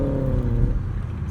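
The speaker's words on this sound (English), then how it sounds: "It's a Subaru WRX engaging in road rage with a truck." Subaru WRX engine rumbling nearby in a road-rage moment with a truck, a low steady drone with tonal revving early that fades into broadband road rumble; no clear horn blast.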